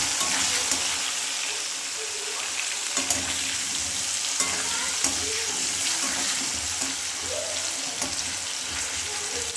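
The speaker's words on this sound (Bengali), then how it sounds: "আর খুব সামান্য হলুদ দেবো দিয়ে আমি প্রথমে আলুটাকে ভেজে নেব।" Potato pieces seasoned with salt and turmeric fry in oil, giving a loud, continuous hissing sizzle close by, with occasional soft scrapes of stirring and no talk.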